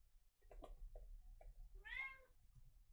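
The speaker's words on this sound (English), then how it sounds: "That is a cat." A cat meows faintly in a quiet room, giving several short chirps and then one longer, drawn-out meow over low background hum.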